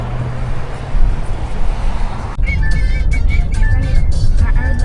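Road traffic near Mather Campground at the Grand Canyon forms a steady low rumble of passing vehicles, with a nearby swell partway through.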